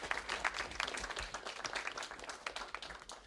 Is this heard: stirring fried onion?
no